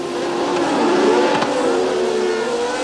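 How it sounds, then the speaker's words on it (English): Racing cars roar around the street circuit at the 1982 Long Beach race, a loud continuous engine wail with rising and falling revs as cars pass close by, unbroken by any talk. "But the engines drowned him out."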